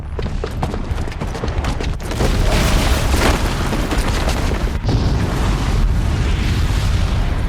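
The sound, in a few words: bomb explosion in the video game Horizon Zero Dawn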